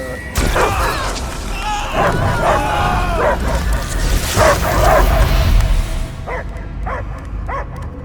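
A dog barks and whimpers amid a tense Guardians of the Galaxy game scene, repeated yips and barks mixed with characters talking, a booming low rumble underneath, and fading into sparser barks at the end.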